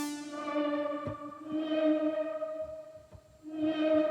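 A brassy synth sound with a sustained, layered, harmonic tone is fed through a Strymon NightSky time-warped reverb, swelling and washing in long, shimmering tails, with faint percussive knocks beneath and no talking.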